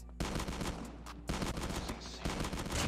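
Shotgun blasts in the mobile shooter game Call of Duty Mobile, three loud, sharp booms about a second apart with no talking.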